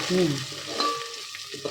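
Close-up sizzling of homemade red masala frying in hot oil for a Konkani chicken dish, with a brief stirring scrape and clink over the steady crackle.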